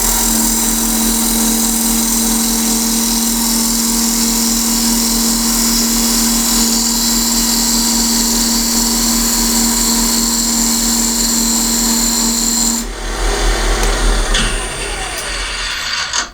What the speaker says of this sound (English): come in with my skew and cut the tenon for the lid to mount onto